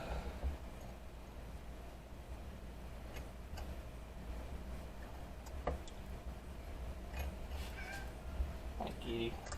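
A cat meows a few times in a workshop where threads are being drilled for a Heli-coil insert, the cries faint and short against a steady low hum, with a person speaking softly nearby.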